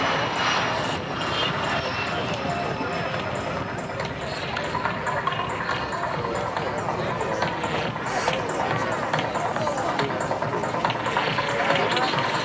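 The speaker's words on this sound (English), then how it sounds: "there goes Delta and their Bombardier Canadair regional jet" A Delta Bombardier Canadair CRJ200 regional jet roars steadily as it takes off at Duluth, a broad continuous engine rumble with faint crowd murmur in the background.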